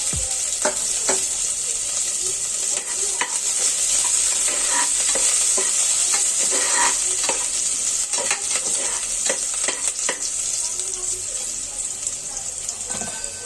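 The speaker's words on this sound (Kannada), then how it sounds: "ಚಿಕ್ಕದಾಗಿ ಚಾಪ್ ಮಾಡಿರುವಂಥ ಈರುಳ್ಳಿನ ಹಾಕ್ಕೊಂಡು ಸ್ವಲ್ಪ ಫ್ರೈ ಮಾಡ್ಕೊಳ್ತಾ ಬನ್ನಿ" Chopped onions frying in oil in a pressure cooker, with a loud steady sizzle and repeated scrapes and clinks of stirring throughout.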